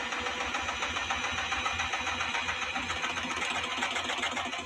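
A vintage Kenmore sewing machine stitching, its motor whirring in a steady, fast mechanical rattle that runs unbroken and close throughout.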